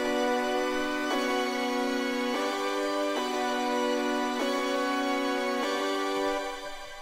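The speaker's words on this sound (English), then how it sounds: "that's how I came up with these two instances of this synth, and together they sound like this" Two layered custom synth instances play a slow chord progression in a beat, sustained bright pads changing chords about every second, with the lows cut, steady and moderately quiet with no voices.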